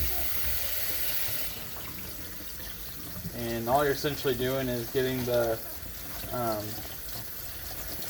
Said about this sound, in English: all we have to do is just take this and we're going to rinse it off